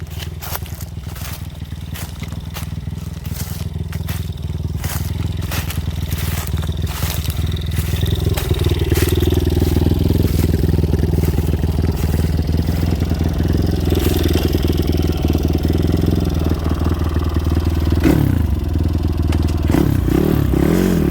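An old motorbike engine on a rural property runs steadily and loud throughout, its idle rising into rougher revving toward the end, with rattling and clattering mechanical noise mixed in.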